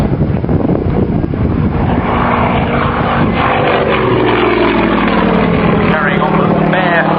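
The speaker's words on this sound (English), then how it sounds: "it can put on an extremely good routine as befits an aircraft that has its origins in a type designated for competition" A Yakovlev Yak aerobatic aircraft performing a display at an air show, its propeller engine droning steadily with rising and falling pitch as it manoeuvres, heavy wind buffeting on the microphone and a commentator talking over it throughout.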